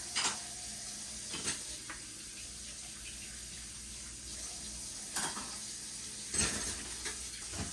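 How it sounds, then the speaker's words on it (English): A mojito of white rum and simple syrup strained over ice in a few short crackling, clinking bursts, with quiet hiss between them and no talking. "Strain that right over top of your ice"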